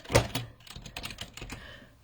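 A short run of irregular keystrokes clacks on a computer keyboard, close and fairly quiet.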